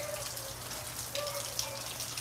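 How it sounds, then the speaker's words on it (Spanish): Heavy rain falls outdoors as an even, hissing patter. Scattered drops tap nearby surfaces, and the downpour holds steady for the whole short stretch. "Aquí se ve que está lloviendo más fuerte de este lado."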